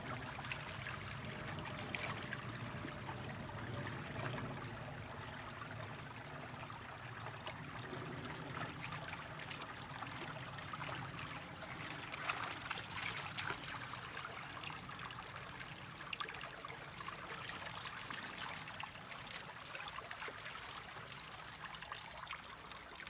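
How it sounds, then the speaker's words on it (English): Creek water flows and trickles steadily over rocks outdoors, a continuous soft rushing murmur that holds at an even, fairly quiet level throughout with no voices. "We are about to explore the creek."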